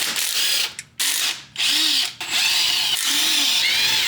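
Power tool ratcheting and whirring as it backs out 12mm oil pan bolts on a Sentra with a QR25DE engine, several loud bursts with brief pauses between, no voices.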